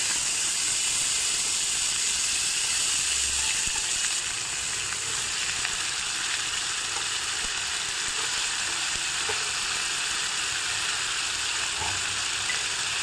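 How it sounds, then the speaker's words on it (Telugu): Chopped tomatoes fry in a hot pan for an egg curry, giving a continuous loud sizzle and hiss close by, steady throughout with faint stirring and no talking. "ఇప్పుడు మనం టమాటోస్ వేసుకున్నాము."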